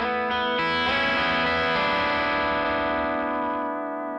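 A sustained electric guitar chord rings out through a warbling, watery bubble vibrato pedal effect, holding steady before slowly fading.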